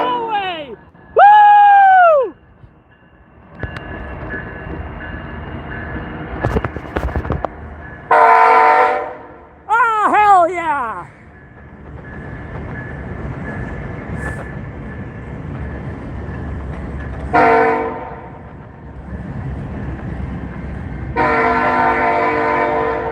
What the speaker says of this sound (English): they're blasting the train horn and it keeps everyone up at night